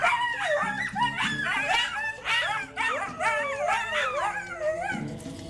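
Coyotes howling and yipping together, a close, loud chorus of rising and falling wavering calls with sharp yips mixed in, going on throughout.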